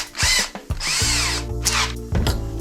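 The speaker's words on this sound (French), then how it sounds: "ensuite maintenant je vais percer à 3," Power drill boring a 3 mm hole in a carburettor part from an MGA sports car, short loud whirring bursts that start and stop several times, close up and without talk.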